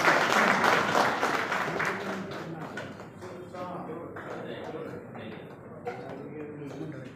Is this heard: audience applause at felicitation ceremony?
yes